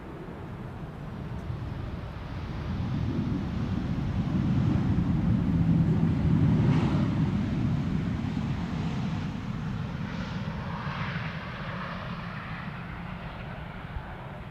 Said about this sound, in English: Transavia arriving from Palma de Mallorca, flight